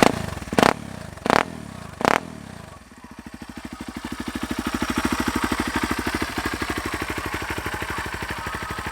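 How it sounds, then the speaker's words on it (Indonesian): Three sharp revving bursts from a Kawasaki KLX 230R dirt bike fitted with an aftermarket Nurifumi Roket 4 exhaust are followed by a steady, loud, throaty idle that swells and rumbles on. "Dan yang paling keren dari motor ini suara knalpot Nurifumi roket 4."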